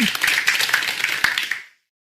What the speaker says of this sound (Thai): เหล่าสมาชิกและผู้ฟังก็ปรบมือเสียงดังพร้อม ๆกัน